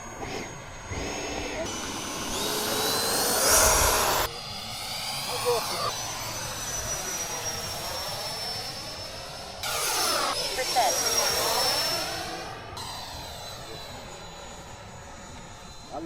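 A Freewing RC jet model airplane flying at Fritz Field: a loud whining turbine-like roar that sweeps up and down as it passes overhead twice, with occasional nearby voices.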